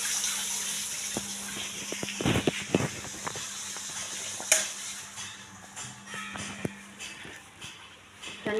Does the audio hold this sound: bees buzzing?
no